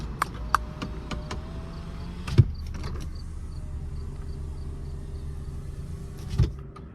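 Interior of an Infiniti G37x on a drive from St. Paul to Minneapolis, with a light intermittent rattle and a couple of sharp knocks over steady low road and engine rumble, close and fairly quiet.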